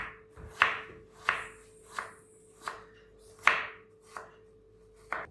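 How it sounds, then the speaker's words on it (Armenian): An apple is chopped finely with a knife on a board, about eight crisp, evenly spaced cuts at a steady unhurried rhythm, close and quiet against a low steady hum. "մանր կտրատում ենք խնձորը"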